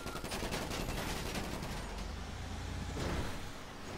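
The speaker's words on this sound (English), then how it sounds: "Who's shooting at you?" Gunfire in the game GTA Online, fairly faint rattling bursts of shots mixed with mechanical vehicle noise, continuous and somewhat distant.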